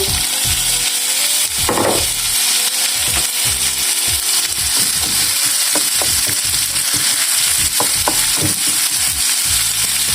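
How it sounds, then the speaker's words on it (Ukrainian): Onions sizzle and crackle steadily in hot olive oil, with occasional scraping and stirring knocks from a utensil against the pan. "І обсмажую до золотистого кольору."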